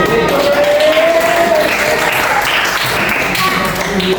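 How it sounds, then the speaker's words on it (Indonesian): A class of students applauds a classmate during a science lesson, a loose, fairly loud patter of hands with voices and a brief whistle-like tone over it. "beri tepuk tangan"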